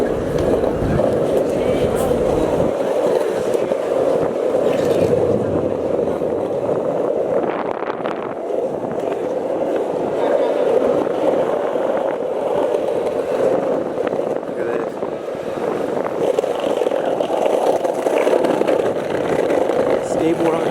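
Skateboard wheels rolling over cobblestones in the old town of Bolzano, South Tyrol, Italy, a steady, continuous rumbling roar close to the microphone that runs unbroken for the whole stretch, with no talking.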